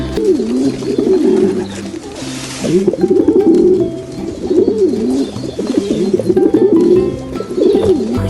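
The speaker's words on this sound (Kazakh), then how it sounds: "Көгершін қандай дыбыс шығарады?" A pigeon coos repeatedly in soft, throaty rolling phrases, close by, with brief pauses between calls.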